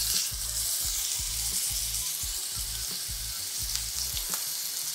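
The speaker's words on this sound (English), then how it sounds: "Now we're gonna add our steak" An inch-thick steak sears in a hot pan of vegetable oil, giving a loud, steady sizzle and crackle with faint repeated scraping or stirring strokes underneath.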